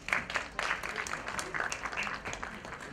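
Scattered audience applause breaks out at a Bollywood trailer launch event for an actress, with uneven bursts of clapping mixed with voices and a few whistles.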